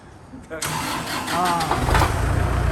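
An Iseki 54 horsepower tractor engine cranks over and fires up, then settles into a loud, close, rough diesel idle, with someone talking over it.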